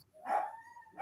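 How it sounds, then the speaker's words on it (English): A pet dog named Max gives a single sharp bark at close range, followed by the start of another, sounding agitated and ferocious. "dog is getting ferocious"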